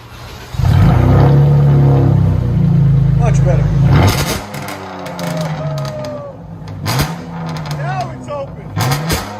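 A Dodge Charger 3.6L V6 with a loud aftermarket exhaust revs hard up close, holding a deep roar before dropping back to idle, then blipping again while people talk nearby.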